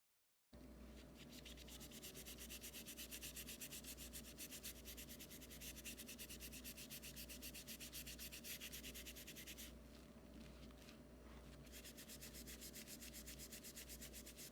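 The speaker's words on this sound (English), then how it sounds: "clean the OEM shell by using a magic eraser, which acts like superfine sandpaper to remove some of the scratches and marks still left on the shell" A magic eraser scrubs steadily over a Game Boy Advance OEM plastic shell, giving a continuous, close, loud rubbing with rapid back-and-forth strokes that ease briefly near the end before resuming.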